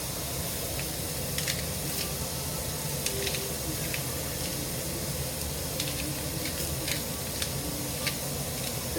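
Steak-umm sliced meat sizzling in a pan for a Philly cheesesteak, a steady broadband hiss with scattered sharp spatula scrapes and clicks as it is stirred, close and continuous throughout.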